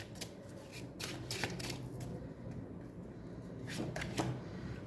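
Tarot cards being shuffled close by, with soft riffling and sliding flutters in irregular bursts, quiet and without speech.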